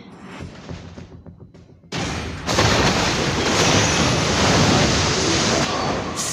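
A loud, broad roar of surging ocean water from a Kadita skill in the video game Mobile Legends: Bang Bang swells in after a quieter, rumbling start and stays steady, like crashing waves.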